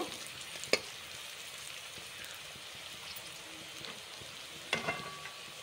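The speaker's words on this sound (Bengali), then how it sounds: "খুব ভালোভাবে ভেজে নেব।" Boiled chicken pieces frying in a pan for chilli chicken, a steady soft sizzle throughout with a couple of sharp utensil clinks near the start and end.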